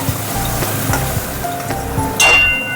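Ground spice paste sizzles in hot oil in a pan for a Bengali vegetarian arum-root curry, a steady close crackle with faint clinks and a brighter burst of sizzling near the end.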